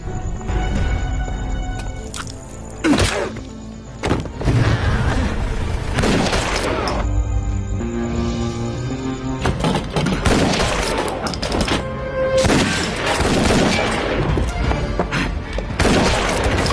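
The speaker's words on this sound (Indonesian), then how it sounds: "Sempat terjadi tukar-menukar mesiu di antara Nomada dan Zeke" Dense, loud volleys of gunfire with booms, crashes and shattering impacts in an action-film shootout between two fighters, sustained over a tense cinematic score with no clear speech.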